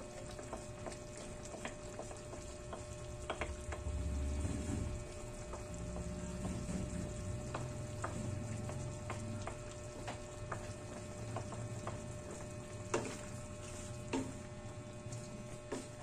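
Pork belly caldereta with tomato sauce sizzles and bubbles in a pan while a spoon stirs it, giving soft scraping clinks and a few sharper knocks over a steady low frying hiss, fairly close and quiet, with no voices.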